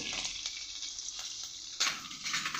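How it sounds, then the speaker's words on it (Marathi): Chilli, crushed garlic and curry leaves temper in oil and butter in a pan, a close, faint steady sizzle with a few soft stirring taps and a brief louder burst near the end. "तुम्ही बघू शकता 2 चमचे तेल आणि अर्धा चमचा बटरमध्ये आपण फोडणी देतोय।"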